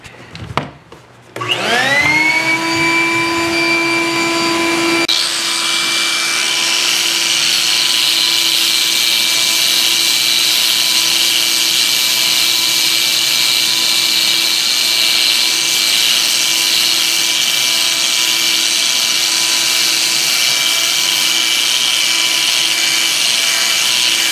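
A 60 grit flap disc on a grinder spins up and grinds panel board glue off a plaster wall, a steady loud whine with strong harmonic tones running continuously after a brief start-up, with a vacuum running underneath.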